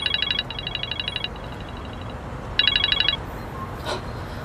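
A telephone rings in rapid electronic trilling bursts, two long rings separated by a pause, clear and close against a quiet room.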